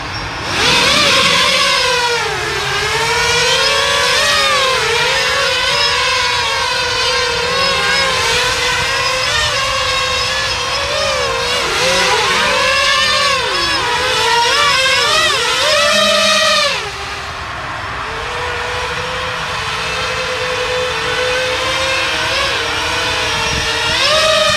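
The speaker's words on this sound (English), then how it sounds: "So this is just the bottom motors powered." A cinelifter drone hovering outdoors at a field with only its bottom motors powered, giving a loud, close, continuous buzzing whine whose pitch wavers and shifts as the throttle changes, dropping in level near the end.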